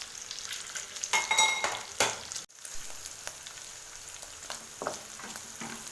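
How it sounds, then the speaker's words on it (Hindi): Onion and capsicum fry in leftover oil in a kadai for kadai paneer, a close, steady sizzle broken by several bursts of stirring and scraping, with a brief dropout midway and no talking. "अब जो तेल बचा हुआ है उसमें मैं ये प्याज और कैप्सिकम को फ्राई कर दूँगी"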